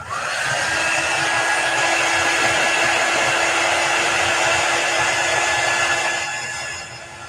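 Steady, loud whoosh of a hair dryer blowing close up to dry chalk paste on a stencil, running continuously with a faint whine before tapering slightly at the end.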